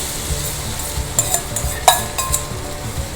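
Lentils and asafoetida sautéing in hot oil in a pan, close and fairly loud, with a stirring spoon scraping and clattering in quick strokes over a continuous sizzle.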